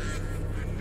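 A loud, close honking quack from a duck in a horror video game, a single harsh call over a low rumbling background.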